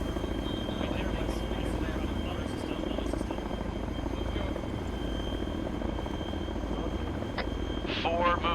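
In a military video game, an aircraft engine, most likely a helicopter, drones steadily and loudly throughout, while a radio voice and players talk over it.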